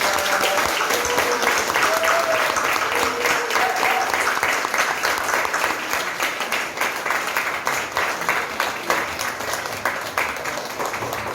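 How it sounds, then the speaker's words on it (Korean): Audience applause fills a church installation thanksgiving service for a new pastor, steady and loud throughout with no break, and some voices mixed into the clapping. "박수 주시겠습니다"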